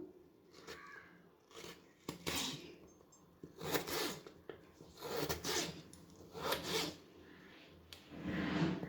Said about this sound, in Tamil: நல்லா இந்த மாதிரி தடிமனாக கொஞ்சம் கட் பண்ணணும்.